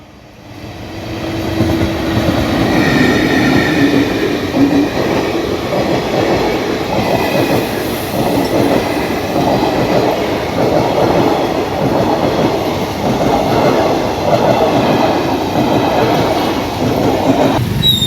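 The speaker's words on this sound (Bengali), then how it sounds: "ট্রেন কিন্তু চলে এসেছে" A train rumbles steadily past a closed railway level crossing with vehicles waiting on both sides, a loud sustained rolling roar with faint wheel clatter that lasts nearly the whole stretch after a quick rise.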